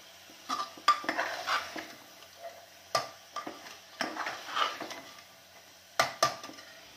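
A spoon scrapes and clinks against a pot as white chana paneer curry is stirred over full flame, coming in irregular bursts with a faint sizzle between strokes; no voices.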